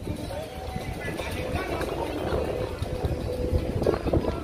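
Steady wind rumbling and buffeting against the microphone outdoors at Animal Kingdom theme park in Orlando, continuous throughout, with faint crowd noise behind it.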